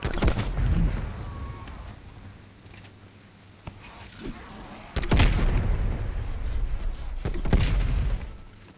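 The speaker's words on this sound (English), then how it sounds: "there's already explosions happening." Explosions and gunfire boom and crack in Call of Duty Black Ops Cold War Zombies, with heavy blasts around five and seven seconds amid ongoing rumbling combat noise.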